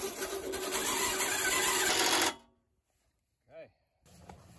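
A powered driver runs a self-tapping screw to fasten EMT conduit to a post on an outdoor solar ground mount install, a loud, steady whir lasting about two seconds that stops abruptly, followed by quiet and a brief vocal sound.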